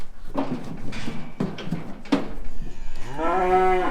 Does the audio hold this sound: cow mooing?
yes